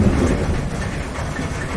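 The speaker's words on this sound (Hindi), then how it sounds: "तभी अचानक तेज बारिश होने लगी" Heavy rain pours steadily with a low rumble of thunder beneath it, a dense, continuous wash of noise that stays loud and even throughout, with no voices.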